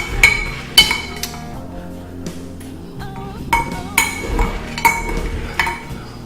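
Spinach being stirred at the bottom of a blender jar for a pineapple berry green smoothie, with scattered sharp clinks and knocks of a utensil against the jar, irregular and close, between quieter scraping moments.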